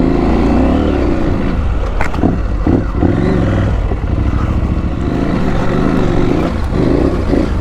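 Yamaha Tenere motorcycle riding off-road on Dunlop Trailmax tires, its engine droning loud and close the whole time with steady low rumble and small throttle surges, no talk over it.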